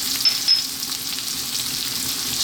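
Carrots, celery and cauliflower fry with onion in a pan over high heat, giving a continuous loud close sizzle with a couple of sharp crackles early on.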